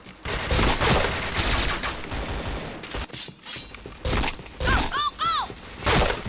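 Gunfire in the video game Point Blank: dense bursts of rapid shots in loud clusters separated by short gaps, with a shouted voice over the action.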